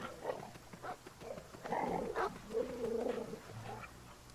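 Dogs in a fantasy tactics video game, a string of short barks, yelps and growls at moderate volume, bunched together over a low game soundscape.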